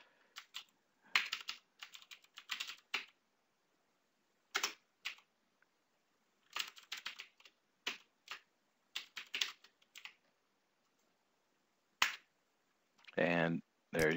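Fingers type on a computer keyboard in quick bursts of close, crisp keystroke clatter, separated by short silences, with a faster run of keys at the end.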